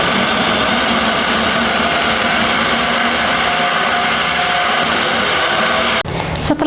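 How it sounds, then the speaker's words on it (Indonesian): An electric blender whirs steadily as it purees mixed ingredients including lemon juice, fish and water, a loud continuous motor drone that shifts and cuts near the end. "semua bahan yang sudah dicampur kemudian di blender"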